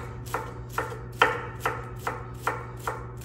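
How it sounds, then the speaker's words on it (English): Knife chopping cabbage thin for coleslaw on a cutting board, seven or eight crisp evenly spaced cuts, close and clear over a low steady background hum. "Let's get the chopping on."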